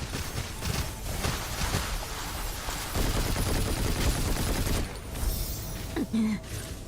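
Rapid gunfire from a character shooting in the video game Snow Break, dense continuous bursts of shots running loud throughout, with a few heavier impacts near the end.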